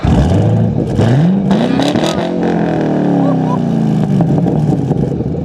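A 2012 Chevy Camaro ZL1 engine fires up with a loud starter-and-catch roar, then revs up and settles into a throaty idle, close and powerful.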